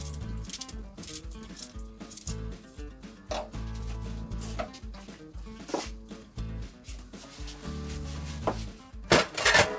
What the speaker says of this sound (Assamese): মই দুটা পিঁয়াজ চেলাই ধুই পেলাই কাটি ল'লোঁ।